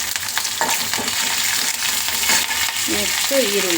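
Green chilies and curry leaves frying in hot oil for a ridge gourd palya, giving a loud, steady close sizzle with occasional stirring clinks, while a voice speaks briefly near the end.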